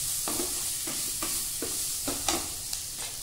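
Paste being stirred into Maggi noodles in a hot pan, a steady sizzle under regular spoon strokes scraping the pan about every half second, fairly close and moderately loud, with no talk.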